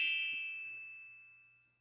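A single bell from a bell set is struck once, giving a clear bright ding whose pure tone rings out and slowly decays over about two seconds, close and isolated with no talk.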